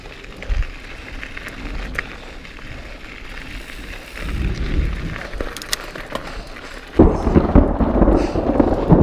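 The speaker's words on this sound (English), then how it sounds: "That lightning was pretty close." Thunder rolls after a close lightning strike in the mountains, a low rumble building unevenly over several seconds before a louder, heavier crash breaks in near the end, loud and near with no speech.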